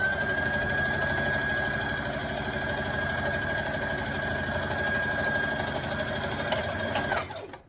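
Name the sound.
sewing machine stitching a dress seam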